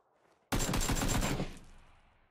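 A rapid burst of gunfire from PUBG lasts about a second, loud and close. It begins abruptly and the echo dies away afterward.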